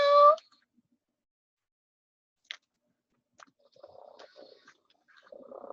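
Robotic Hasbro toy cat giving a short bright meow at the start, then a long quiet stretch with a faint click and soft scattered mechanical chirps and murmurs near the end.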